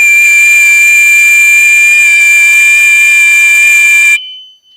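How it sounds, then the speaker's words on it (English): A loud, steady electronic buzzer drones on a constant pitch, with a faint whistle woven in, then cuts off abruptly near the end. "This was my whistling, and this is the main buzzer."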